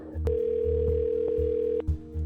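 A phone line drops and a steady electronic tone sounds, holding for over a second before cutting off abruptly.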